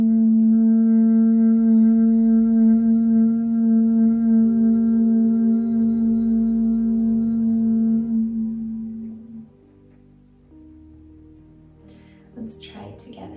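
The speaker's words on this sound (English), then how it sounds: "exhaling with the mouth closed in a hum, and it sounds like this" A long, steady, closed-mouth hum exhaled in Bhramari bee breath, a sustained buzzing drone close and loud for about nine seconds before it fades, followed by a soft breath and light rustle.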